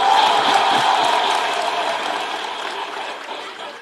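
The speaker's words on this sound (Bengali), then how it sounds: "ইমোশনসের জন্য বটে জোরে হাত তালি" A crowd claps loudly at a gathering, a thick continuous wash of hand claps that starts strong and gradually tapers.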